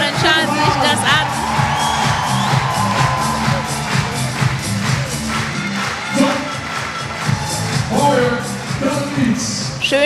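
Audience at a German Horse of the Year 2025 announcement ceremony cheering and whooping, a loud sustained crowd roar with shouts rising and falling throughout, a voice talking over the noise.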